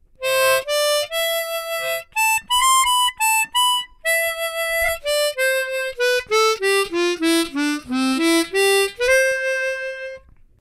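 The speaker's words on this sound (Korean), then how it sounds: "세계에서 제일 비싼 하모니카 호너 실버 콘체르토였습니다." A Hohner Silver Concerto chromatic harmonica plays a clean, bright melody alone, with sustained single notes and short phrases that step down and climb back up, with no talking.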